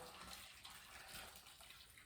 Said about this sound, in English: I'm just going to pour some water